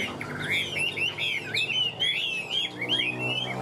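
A Chinese hwamei songbird with a stiff fig-leaf-shaped tail sings a continuous, lively run of varied warbling phrases and whistles, close and clear with a faint low hum beneath.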